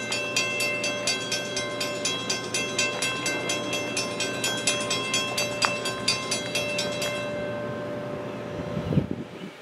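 An eastbound Norfolk Southern freight train led by an ex-Conrail locomotive rolls past at night, wheels clicking in a steady rhythmic clatter over rail joints, squealing as it passes nearby before the last cars clear.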